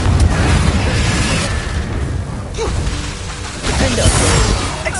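A Confringo spell explodes in Hogwarts Legacy, a loud burst of rumbling, crackling blast noise that whooshes and swells across the fight, mixed with combat effects and a voice calling out.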